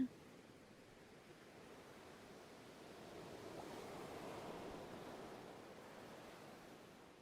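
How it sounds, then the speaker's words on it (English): Ocean waves ambience inside a video game environment, a steady, soft wash of surf noise that swells gently in the middle and continues evenly throughout, with no voices. "Look at the sound effects in this space too. Just the ocean."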